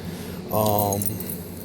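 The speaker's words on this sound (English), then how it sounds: "First thing is, keys. Everyone has them. Car key, house key, whatever." A ring of everyday keys, including a car key and a house key, jangles briefly in the hand at close range, a short metallic shimmer over quiet room tone.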